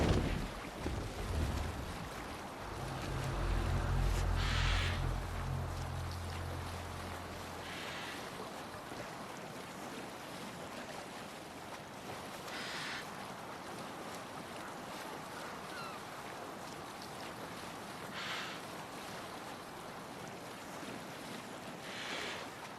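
A sailing ship moves over waves in the game Assassin's Creed Valhalla, with a low rumbling surge early on, then steady wind and water wash and occasional soft splashes, with no voices.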